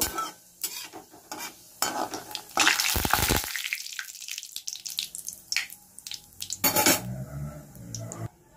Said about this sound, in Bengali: জিরে, তেজপাতা, লঙ্কা। এগুলো একটু ভেজে নেব।